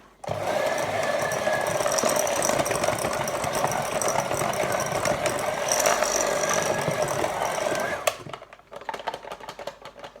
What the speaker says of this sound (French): C'en est fini pour mon batteur électrique.